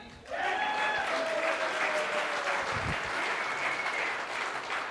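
A crowd bursts into loud, sustained clapping that continues steadily throughout, with a few whistles and shouts mixed in.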